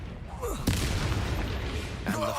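A Confringo explosion spell goes off in a video game: a loud, deep boom that rolls on over a steady rumble, with a second burst toward the end.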